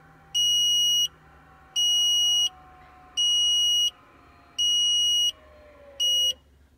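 Five loud electronic beeps from the electric parking brake of a 1963 Corvette split-window restomod as it engages, in a steady series, each about a second long with short gaps, over a low background hum.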